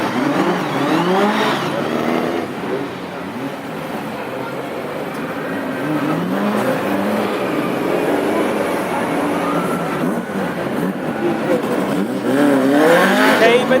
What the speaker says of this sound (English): Starting car moves them away, and we're on the rolling lap for heat number 2 for the Classics